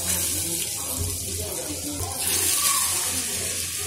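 Gadal leaf fritters hiss and sizzle in hot sunflower oil, a loud, close, continuous frying rush that swells slightly partway through.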